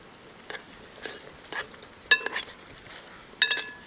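Thai chicken curry gets stirred through in a pan, with soft frying hiss under a handful of distinct utensil clinks and scrapes against the pan.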